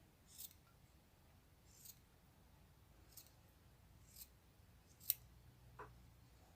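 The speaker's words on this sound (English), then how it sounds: "I'm just going to cut maybe about ½ an inch at one end" Scissors snipping fabric for making beads, five or six quiet, crisp cuts spaced about a second apart, close by in a quiet room with no talking.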